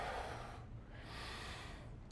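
A person draws a deep breath in through the nose during a steel club workout, producing a strong close airy inhale followed by a softer continuing breath.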